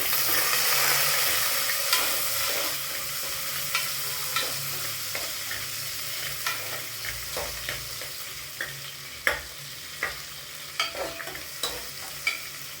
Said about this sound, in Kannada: ಅದನ್ನು ಸ್ವಲ್ಪ ಬ್ರೌನ್ ಕಲರ್ ಬರೋವರೆಗೂ ಇದನ್ನು ಬಾಡ್ತೀವಿ